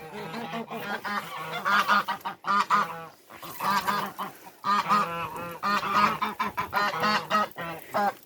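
Domestic geese and ducks honking and quacking close by, repeated nasal calls in overlapping bursts with brief pauses between them.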